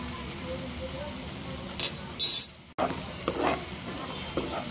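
Ginger-garlic paste masala frying in a pan with cooked tomato for prawn pulav, a soft close sizzle stirred with a few brief scraping clicks and a short pause midway, faint voice-like murmurs in places.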